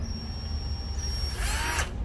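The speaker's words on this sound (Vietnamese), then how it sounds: "cái máy số 3 máy khoan Hitachi 10V8" A used Hitachi 10V8 cordless drill runs briefly, giving a thin motor whine that rises into a short, louder burst near the end, with no speech.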